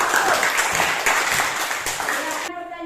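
Classroom applause from students in a biology lesson on classifying living things, a dense burst of clapping that fills the room and stops abruptly near the end, leaving a faint tonal hum.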